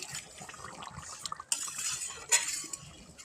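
A spatula scrapes and clinks against a pot of food cooking over a wood-fired stove, with irregular metallic knocks and soft wet stirring sounds close by and no talking.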